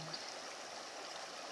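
Steady rushing flow of a river near Saguaro Lake, a soft continuous broadband wash of moving water with no breaks, heard from close by and fairly quiet.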